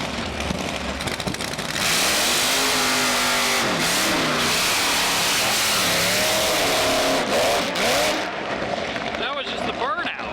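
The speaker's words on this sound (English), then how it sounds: "That was just the burnout." Drag racing PT Cruiser with flames, a wheelstander, doing a burnout at an NHRA event: a loud sustained roar of engine and spinning tires, rising and falling in pitch, with people talking over it.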